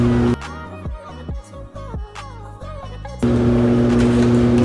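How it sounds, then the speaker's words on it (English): A washing machine runs in an apartment as a steady, loud mechanical hum and drone that drops back during a busier, shifting stretch in the middle, then returns at full level. "If y'all can hear that in the background, that's my washing machine."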